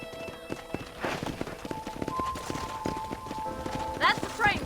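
Horse hooves clip-clopping in the Red Dead video game, a steady walking rhythm of hoofbeats under ongoing speech, with a couple of brief higher sounds near the end.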